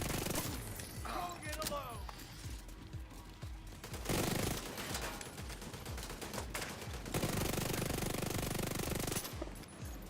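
Sustained turret gunfire in The Division 2, a dense, loud mechanical rattle of rapid shots running for several seconds with brief lulls, and a voice speaking over it.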